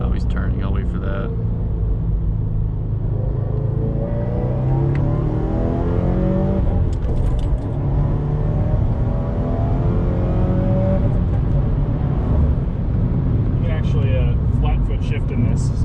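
A Subaru WRX engine revs and pulls hard under acceleration from inside the car, a loud sustained drone rising and holding high revs, with people talking over it throughout.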